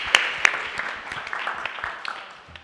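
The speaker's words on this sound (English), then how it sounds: "can you please give a round of applause for our wonderful sponsors?" Light, scattered applause from a small crowd at a startup pitch showcase, a few sharper claps standing out over a soft, thinning patter.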